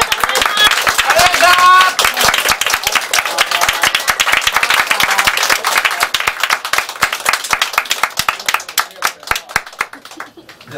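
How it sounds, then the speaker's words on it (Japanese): An audience applauds the Potemas staff at the close of an event, dense steady clapping that thins into scattered claps toward the end, with some voices mixed in. "今日一番お世話になったポテマスの方に拍手を。"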